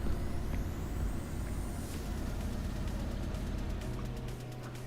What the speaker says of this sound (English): Scania S for today's stream.